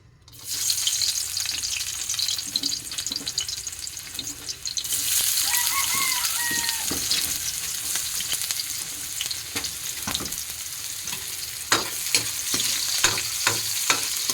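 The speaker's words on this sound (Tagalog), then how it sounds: "Magluluto ako ng miswa." Miswa noodles cook in a pan with steady frying sizzle and repeated stirring scrapes and clinks, close and continuous, growing brighter partway through.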